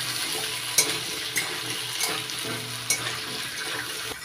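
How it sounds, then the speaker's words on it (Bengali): Potatoes and soaked chickpeas frying in oil in a pan, a moderate continuous sizzle broken by a few clicks and knocks, likely from stirring. "ভিজিয়ে রাখা ছোলা দিয়ে হালকা লাল করে ভেজে নিচ্ছি।"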